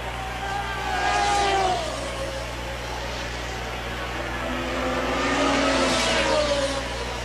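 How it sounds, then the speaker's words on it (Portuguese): A Formula 1 car engine from the 1981 British Grand Prix whines past twice, rising and fading in pitch, heard from a distance over a steady low background hum. "O barulho do motor do Arnaud a cada volta complica mais, piora mais."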